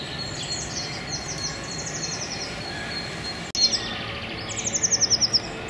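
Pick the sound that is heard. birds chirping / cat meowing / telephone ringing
birds chirping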